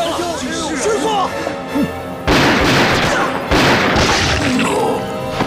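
Gunfire in a Chinese anti-Japanese war TV drama set in Shanghai: voices open the scene, then two loud, sustained broadband blasts of shooting erupt about a second apart, each lasting around a second.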